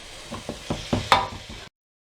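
Pork pieces, 500 grams, stir-fried in a hot pan, a few close scraping stirs of a utensil against the pan over a soft sizzle, ending abruptly.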